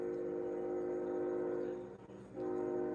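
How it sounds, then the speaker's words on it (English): A distant train sounds a long, steady horn, its tone holding for about two seconds, dipping briefly, then returning, carried from the far side of a town with no one speaking. "The train is at the other end of town,"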